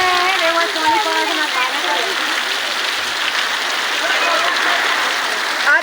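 Steady rain pouring in Khodamali village, a dense continuous hiss of falling water with a voice speaking over it throughout.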